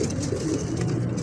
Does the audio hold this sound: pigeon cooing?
yes